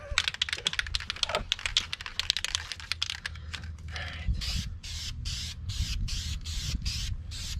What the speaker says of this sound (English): Now, The rattle can paint.